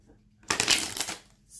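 A deck of tarot cards being shuffled: one quick, close riffle of a little over half a second, with soft flutter and slapping cards, and quiet surroundings before and after.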